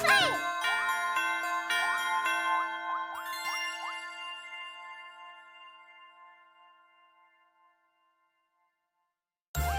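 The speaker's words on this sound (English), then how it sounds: "thank goodness we don't have to worry about that stupid bell at the end of the level" End-of-level bell jingle in Kirby's Epic Yarn: bright chiming tones with quick rising swoops ring out over the first few seconds, then thin out and fade to silence, with a short burst of sound at the very end.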